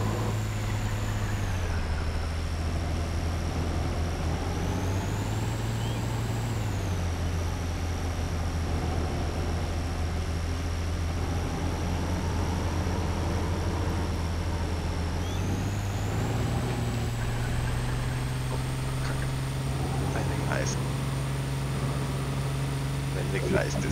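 A truck in DayZ Epoch runs with a steady, droning engine hum whose pitch shifts down and up as it slows and speeds, with a faint hiss of braking near the end and people talking quietly over it.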